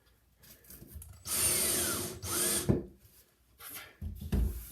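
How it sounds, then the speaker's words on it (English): A power drill drives screws into wood in two long whirring bursts with a grinding bite, followed by a short third burst, close and fairly loud with quiet gaps between. "watch that drill or she'll go to that drill, put those screws in all the way to China"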